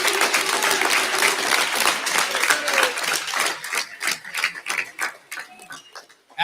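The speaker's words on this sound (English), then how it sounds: "Let's give all your teachers a round of applause for all they have done." A graduation audience applauds their teachers, a dense round of clapping that thins out and fades into scattered individual claps toward the end.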